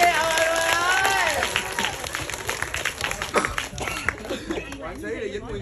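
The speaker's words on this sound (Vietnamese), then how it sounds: "Vỗ tay đi ông ơi, ông ơi." An audience at a cinema meet-and-greet with a film's cast and crew applauds, a dense patter of clapping with some cheers alongside loud talk, fading into scattered claps.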